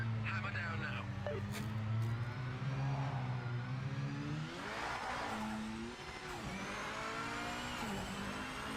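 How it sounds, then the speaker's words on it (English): A race car engine in the video game Project Motor Racing drones and revs with shifting pitch, tires squealing briefly, a continuous mechanical roar close up. "The engine sounds are becoming very generic."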